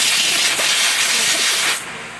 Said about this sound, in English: want to blow it down with very light compressed air